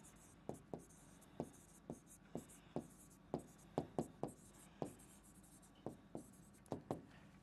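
Marker or chalk strokes on a classroom board during a science lesson, a series of distinct short scratching taps in an irregular rhythm, close and clear with no talking.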